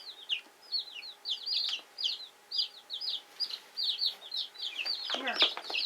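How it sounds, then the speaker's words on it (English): Buff Orpington chicks peep in a brooder, a busy stream of high chirps close by. A scuffle and rustle near the end. "There's a couple of our little buff Orpingtons."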